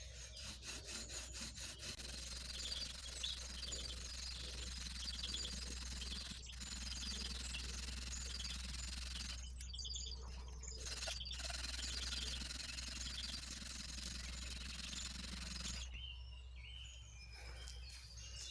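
A bow drill with oak bark cordage spins a spindle on a hearth board, producing a steady back-and-forth sawing friction rasp throughout, close and moderately loud, with short pauses and faint birds outdoors.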